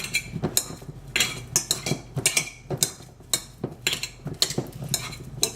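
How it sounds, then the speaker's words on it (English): Ripe bananas mashed in a bowl with the head of a KitchenAid whisk, a steady run of close, sharp clinking and squishing strokes at a brisk, uneven rhythm. "so I'm just going to mash these, and I will use the head of my KitchenAid whisk."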